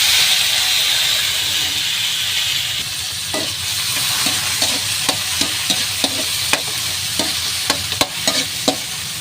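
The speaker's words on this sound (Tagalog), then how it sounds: "So guys, lalagay natin yung ating kamatis sa sili." Tomatoes and chili sizzle in a hot pan with garlic and onion while being sautéed for a sarciado fish dish. A steady frying hiss runs under a series of sharp spoon-on-pan clinks from stirring.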